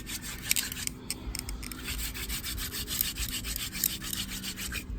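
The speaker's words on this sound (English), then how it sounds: "just keep drilling. Downward pressure and a little more speed." A wooden hand drill spindle is spun against a fireboard to make fire, giving a close, steady scratchy rubbing that pulses in quick strokes, with no talk.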